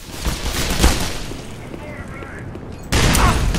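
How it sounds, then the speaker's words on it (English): A grenade blast in Half-Life: Black Mesa: a muffled boom early, a rumbling tail, then a second sharp, loud burst near the end amid combat noise. "We'll throw a grenade myself!"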